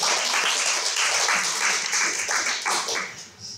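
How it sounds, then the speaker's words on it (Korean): A church congregation claps for Minsu during a sermon, a lively burst of many hands at close range that holds steady, then tapers off near the end. "민수에게 박수 한번 쳐."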